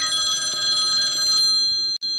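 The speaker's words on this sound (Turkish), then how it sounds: "Telefon çalıyor." A telephone bell rings steadily and loudly in the video game The Last Deadend, a continuous electronic trill that stops abruptly near the end.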